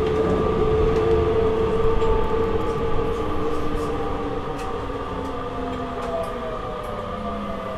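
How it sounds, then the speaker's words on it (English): A train ride in Japan near Shibuya, with a continuous rumbling roll of the carriage, a sustained whining tone and faint clicks of the wheels, steady and close. "Just took the train back."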